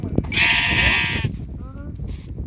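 A sheep in a survival island video game gives a loud, close bleat lasting about a second, then a shorter, softer bleat follows.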